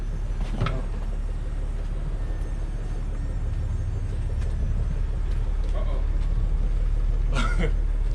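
BMW E24 633CSi engine idling steadily as a close, continuous low rumble throughout, with a couple of brief clatters over it.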